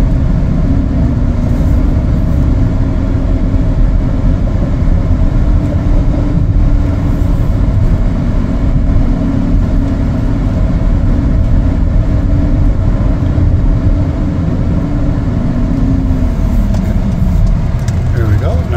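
A 2019 Honda CR-V EX-L on a road test drive fills the cabin with a loud, steady engine and tire drone, with some talk over it. The drone winds down in pitch at the very end as the SUV slows.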